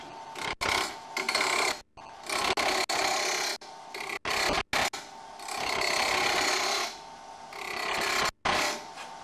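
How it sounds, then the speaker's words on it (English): A wood lathe spins a piece held in a Robert Sorby wobble chuck while a tool cuts it, making raspy scraping bursts broken by short silent gaps, moderately loud and close, with no talking. "Turn the lathe on and create the final section."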